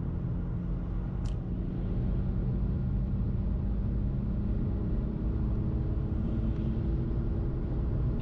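A rebuilt BMW N52 inline-six pulling at about three-quarter throttle on the Autobahn, heard as a steady, loud, low engine drone with road rumble that holds for the whole stretch, no voices.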